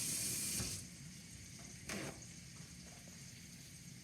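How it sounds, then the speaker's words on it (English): A chef washes his hands under a running kitchen tap, a short close splash of water that falls quieter, surges briefly again, then trails off against faint background sizzling. "I'm going to wash my hands."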